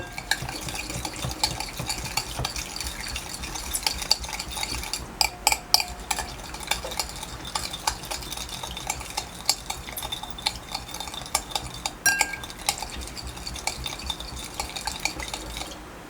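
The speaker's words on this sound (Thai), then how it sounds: "เราก็คนให้ทุกอย่างมาละลายนะฮะ" Spicy rice vermicelli salad dressing being stirred by hand until it dissolves, a steady run of close clinking and scraping spoon strokes with a few louder taps against the bowl.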